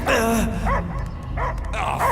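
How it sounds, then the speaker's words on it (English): In the Marvel's Guardians of the Galaxy video game, a dog gives several loud, close barks and yelps in short bursts, mixed with whimpering tones. "I hear only barking."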